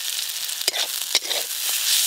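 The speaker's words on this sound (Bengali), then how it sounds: "পেঁয়াজ আর পটল এই দেখুন একটু ভালো করে ভাজা ভাজা হয়ে গেছে" Onion and pointed gourd frying in a pan on a village kitchen stove, giving a steady close hiss of sizzling oil broken by a few sharp scrapes and stirring clicks, with no talking.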